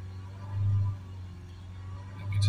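Land Rover 2.0 Ingenium diesel engine with an exhaust gas recirculation flow fault, held steady around 3000 RPM: a low, even hum with a faint drone that swells slightly twice, quiet and unaccompanied.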